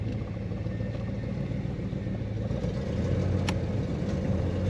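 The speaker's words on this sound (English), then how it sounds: "Today we're driving a 1950 Ford Custom, a chop top, 4 on the floor manual transmission." A 1950 Ford Custom chop-top street rod with a four-speed manual transmission drives along, its engine a steady low rumble heard from inside the car with road noise.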